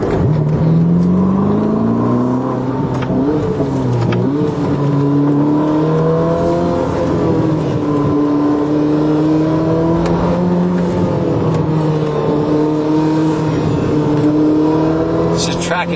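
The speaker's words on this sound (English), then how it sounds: "if I give it a little bit of gas here, a gasoline engine will kick on, and then you can hear that" The gasoline engine of a Ferrari SF90 hybrid starts up and revs, rising and falling in smooth, loud, close engine tones for the whole stretch, with a person talking over it at times.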